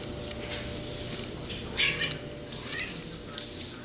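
A cat meows a couple of times close by, a short plaintive cry over a quiet indoor hum.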